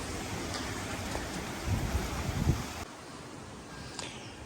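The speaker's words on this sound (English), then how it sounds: "it's a bit of a windy day here" Broad, steady rushing noise of wind blowing outdoors, with occasional gusts and buffeting, continuous throughout and no talking.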